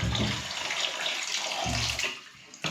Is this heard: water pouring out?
yes